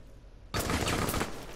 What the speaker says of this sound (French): j'adore ce petit pistolet mitrailleur de smoke